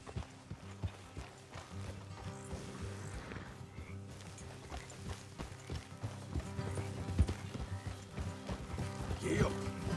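A horse gallops in Red Dead Redemption 2 with rhythmic, fairly faint hoof clops and some jostling under a low game soundscape, with voices murmuring in the background.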